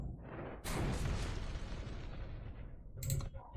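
A heavy mortar blast booms as an attack effect in the Eternal card game, one loud explosive hit with a long fading rumble, followed by a second shorter impact near the end.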